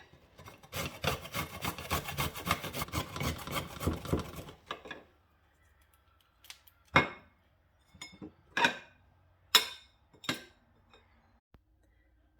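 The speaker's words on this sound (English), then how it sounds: "So let's grate that up." Fresh ginger rubbed against a grater makes a fast, rhythmic rasping that runs for several seconds, then gives way to a few isolated scrapes and knocks amid quiet.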